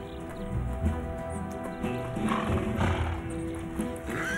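A horse called Huracán whinnies loudly close by while its hooves clip-clop irregularly on the ground, with faint background sound under the animal's calls.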